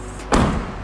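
Rear tailgate of a 2010 Honda CR-V swinging shut, a single solid thump with a short muffled body resonance, close and fairly loud, with no talk over it.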